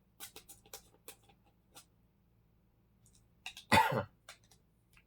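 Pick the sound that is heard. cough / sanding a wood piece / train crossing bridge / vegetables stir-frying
cough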